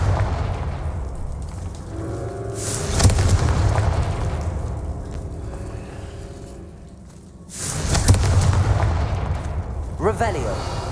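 Confringo blasting spells from Hogwarts Legacy burst twice, each a loud boom with a rumbling tail, near three and eight seconds. Quieter spell effects fall between them, and a character voice is heard.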